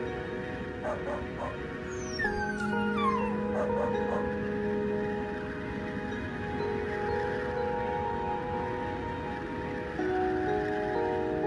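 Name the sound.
dogs barking and whimpering toward the forest at night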